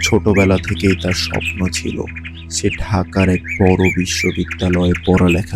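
Bird chirps and squawks from a village setting form an animated backdrop, with short calls scattered under a narrator's steady voice.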